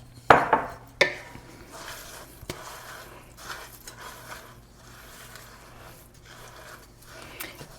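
Dough ingredients are mixed in a bowl with a few sharp utensil knocks at first, then softer irregular scraping and stirring strokes close by, without talk.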